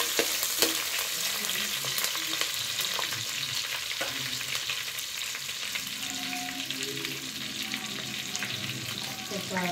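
Cumin seeds, fenugreek and onion frying in a pan for a home-made prawn and drumstick gravy, a steady close sizzle with occasional stirring scrapes and no talk.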